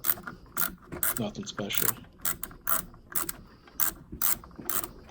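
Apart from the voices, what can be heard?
screws being unscrewed from refrigerator condenser motor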